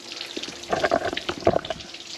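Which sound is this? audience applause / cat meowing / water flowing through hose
water flowing through hose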